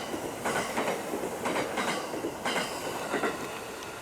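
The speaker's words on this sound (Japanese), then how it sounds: "特急サンダーバード9号が長い12両編成を従えて通過していきました" A limited express Thunderbird train with a long 12-car consist passes through a station on the Hokuriku Main Line, giving a steady rushing roar with rhythmic clickety-clack bursts from the wheels crossing rail joints, moderately close.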